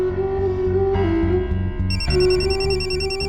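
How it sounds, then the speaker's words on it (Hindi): A phone rings repeatedly during a call, an electronic ringtone pattern that loops clearly and loudly with no voices over it. "शरद को फोन करके पूछती हूँ।"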